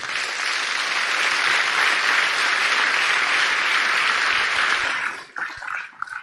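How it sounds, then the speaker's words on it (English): A crowd claps steadily for about five seconds, loud and sustained, before the applause tapers off into scattered claps. "I would just like everyone to give a round of applause"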